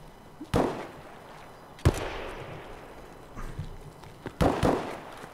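Gunfire rings out in Escape From Tarkov: several sharp, echoing shots spaced irregularly, some single and some in quick pairs, each trailing off into a reverberant tail at moderate distance.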